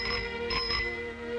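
A bell on a new bicycle rings, bright metallic tones around the middle of the moment over a soft background hum, moderately close.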